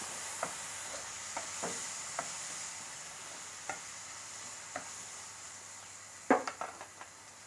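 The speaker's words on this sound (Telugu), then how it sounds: "ఇదే పాన్ పెట్టుకొని టమాటోలు పసుపు కూడా వేసానండి ఇది బాగా మగ్గనిద్దాము" Tomatoes with turmeric cook quietly in a pan under a faint hiss, with scattered soft taps of stirring and a short clatter of utensils near the end.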